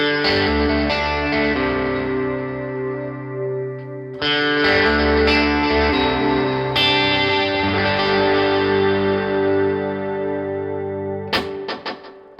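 An electric guitar played through an Eventide H9 effects unit with reverb and El Grunjo drive, sustained distorted chords ringing out with a washy reverb tail, a few chord changes and brief muted strums at the end.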